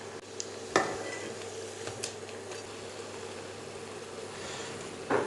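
Thattai frying in hot oil over a medium flame, a faint steady crackling hiss with a few soft clicks of a utensil against the pan.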